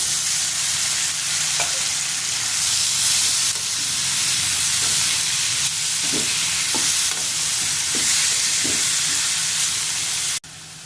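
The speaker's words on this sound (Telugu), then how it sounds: "ఉల్లిపాయలు వేగిపోయినాయి. అందులోనే టమాటాలండి, 2 పెద్ద టమాటాలు" Tomatoes dropped into already-fried onions in a pan give a steady, close sizzling hiss, with a few soft stirring knocks scattered through it and a brief drop in level near the end.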